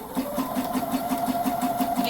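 Sewing machine zigzag stitching a knit seam for a romper, a rapid even mechanical chatter with regular needle beats, close and steady throughout.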